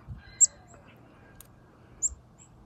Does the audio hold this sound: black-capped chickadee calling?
yes